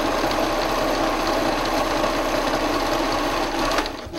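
A sewing machine stitches a slipcover seam, a steady rapid mechanical whir running continuously and close, easing off briefly at the end.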